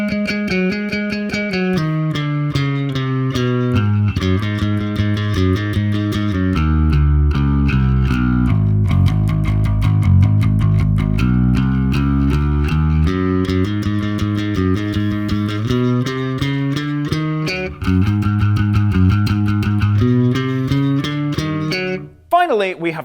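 Distorted electric bass plays a fast, continuous riff from a song in a speed-metal style, loud and steady with dense gritty overtones, cutting off abruptly near the end.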